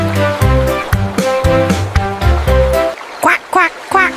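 Singing voices imitate ducks in a nursery rhyme, with a string of rhythmic, nasal quacks repeated in quick succession over a musical backing.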